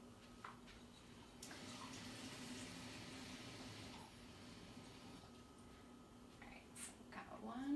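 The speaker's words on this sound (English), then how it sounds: "We are gonna measure 2 cups of water, and we're putting this in a saute pan." Two cups of water pour steadily from a measuring cup into a saute pan, a faint continuous splashing wash lasting several seconds with quiet kitchen background.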